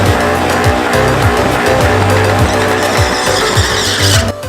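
Loud car burnout at a car show, engine roaring with repeated revving swells while the tires squeal and skid continuously throughout, close and dense.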